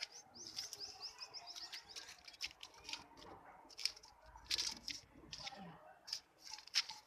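Pigeons in a loft, with soft chirps and flutters scattered throughout over a quiet background at moderate distance, while someone talks intermittently.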